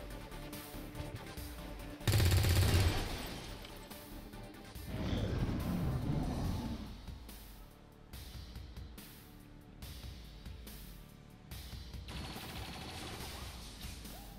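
A loud gunshot bursts out in XCOM 2 Long War of the Chosen, followed by a rumbling impact and crash a few seconds later, then quieter game ambience and scattered effects.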